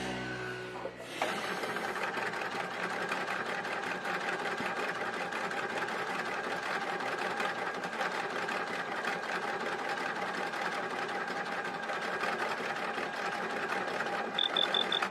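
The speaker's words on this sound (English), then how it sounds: "it does like a little vintage Bartak stitch that is its version of these candle wicking stitches" A sewing machine running a vintage bartack, candle-wicking style stitch, kicking in after a second of quiet and then whirring and rattling steadily for about fourteen seconds, close up, with a few soft beeps at the very end.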